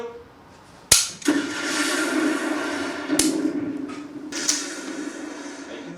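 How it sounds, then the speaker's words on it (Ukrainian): Sharp, loud gunshot pops from an interactive shooting simulator ring out three times, the first and strongest near the start, over a steady background hum. "Постріл."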